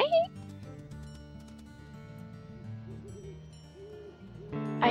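An owl hooting in the video game Wolf Quest 3, with soft, low hoots in the middle and toward the end, heard faintly beneath steady background game music and ambience.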